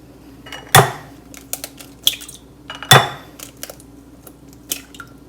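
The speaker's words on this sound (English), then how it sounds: "Crack 3 eggs into a bowl." Eggs are cracked one after another against a bowl, giving two sharp hard taps plus smaller clinks and knocks of shell and bowl, close and otherwise quiet.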